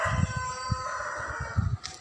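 A native-breed rooster crows in a drawn-out call while other native chickens cluck in short bursts nearby.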